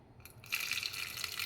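Water pours into a pressure cooker holding two raw mangoes for mango rasam, a short splashing gush that starts after a quiet half second and runs steadily to the end at moderate volume.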